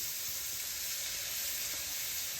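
Beef short ribs searing in a very hot pot, a dense, loud, steady sizzle with crackling fat spitting throughout, close and alone.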